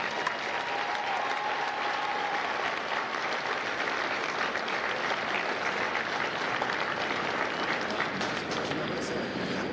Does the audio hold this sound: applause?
yes